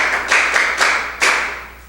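Audience at a school quiz competition applauds the moderator: a brief, moderately loud burst of clapping in a few surging waves that fades out, with no speech.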